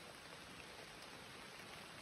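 Steady rain falling outdoors, a soft, even hiss of drops on surfaces that carries on without a break at low volume.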